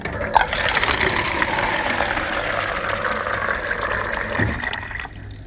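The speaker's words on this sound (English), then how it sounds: "This is a noise which I recorded myself, a water dispenser." Steady rushing water from a water dispenser pours continuously, a broad hissing flow that holds for several seconds before cutting off near the end.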